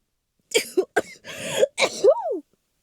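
A woman's loud sneeze comes in a few sharp bursts, cough-like and nasal with a rising, cartoonish vocal squeal at the end, close and alone in a quiet room.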